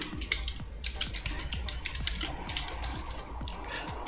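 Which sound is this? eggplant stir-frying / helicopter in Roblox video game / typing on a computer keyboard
typing on a computer keyboard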